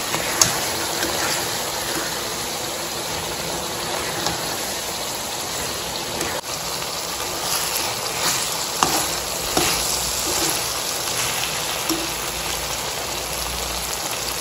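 Chicken pieces sizzle steadily in hot oil in a kadai as they brown for morog polao, a dense, crackling hiss with occasional louder pops and stirring sounds throughout.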